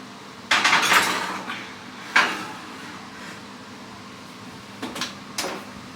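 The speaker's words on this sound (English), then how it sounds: "let's get this in the oven" A baking dish of stuffed bell peppers being slid into a home oven: a sharp clatter of cookware and the oven door, a second knock a moment later, then a quieter pair of clinks after a pause. No voices.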